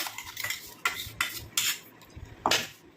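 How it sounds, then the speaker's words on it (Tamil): A metal spoon scrapes and clinks against a tea filter while straining juice for a face pack, giving several sharp, close metallic strokes with short pauses between them. "இப்போ இதை வந்து நம்ம ஒரு டீ ஃபில்டர் வச்சு நம்ம வடிகட்டி எடுத்துக்கலாம்"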